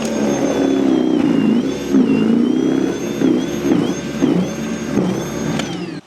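A battery-powered snow blower runs steadily while throwing snow through its angled chute. The motor gives a continuous whirring drone with slight rises and falls in pitch, close and loud throughout.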